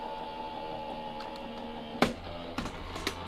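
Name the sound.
die cutting machine running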